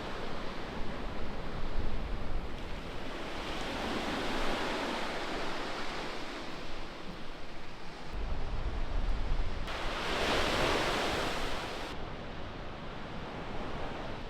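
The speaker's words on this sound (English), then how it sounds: "listening to the waves lap at the shore" Waves lapping at an Australian shore at a remote campsite, a steady broadband wash that swells louder around the middle, continuous and close with no voices.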